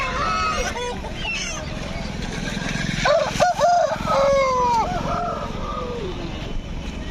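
At the Gudur chicken market, an Aseel rooster crows in the middle of the clip amid the clucking of other fowl, set against busy market noise, with people talking in the background.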